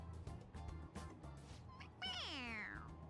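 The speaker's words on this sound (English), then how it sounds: "It meows when you press on its head." A toy cat from the video game Persona 5 Royal gives a single drawn-out, falling meow when its head is pressed, clear and close after a stretch of quieter background sound.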